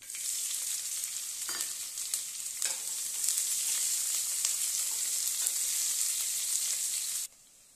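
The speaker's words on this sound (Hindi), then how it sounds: "पचफोड़न भुंजा गया है तो इसमें हम प्याज डालेंगे।" Onions sizzle and crackle in hot oil with panch phoron for kadhi, a steady bright frying hiss with a few stirring knocks, close and continuous until it cuts off abruptly near the end.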